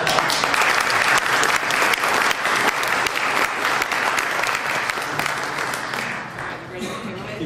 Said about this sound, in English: So let's give Tony a round of applause.